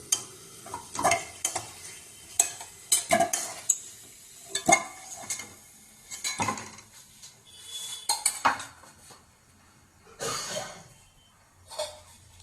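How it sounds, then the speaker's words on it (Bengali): Potatoes fry in a pan until browned, with a soft sizzle beneath repeated close metallic clinks and scrapes of a utensil against the pan as the pieces are turned and lifted out. "আমি আলুগুলো লাল করে ভেজে ভেজে নিয়ে তুলে নিচ্ছি"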